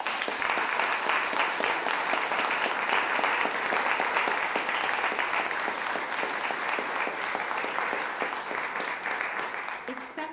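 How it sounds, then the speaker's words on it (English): Audience applause at a school board meeting, given for everyone involved in a student event: a full, even round of crowd clapping that stays steady and continuous for about ten seconds. "just a round of applause for everyone involved."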